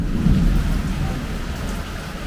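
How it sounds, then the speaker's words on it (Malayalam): Steady rain from a thunderstorm with a low rumble of thunder rolling underneath, loud and close throughout, with no voices. "ഇടി വെട്ടുന്നുണ്ട്."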